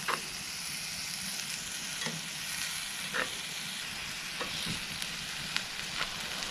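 Ground venison frying in a cast iron pan at a campsite, a steady close sizzle and hiss with occasional sharp pops and crackles scattered through it.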